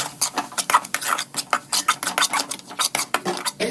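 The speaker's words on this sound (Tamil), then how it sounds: "ஆட் பண்ணி நல்லா மிக்ஸ் பண்ணி கொடுக்கணும்" Chopped tomatoes are stirred into masala in a pan, a quick run of rhythmic metal scrapes and clinks from a spoon against the pan, close up and without speech.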